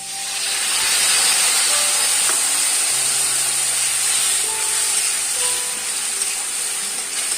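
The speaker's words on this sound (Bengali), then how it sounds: "আলুগুলি ছেড়ে আমি একটু হালকা করে ভাজবো।" Potatoes fry lightly in a pan for a Bengali home-style recipe, giving a steady, close sizzling hiss that holds evenly throughout with no voices.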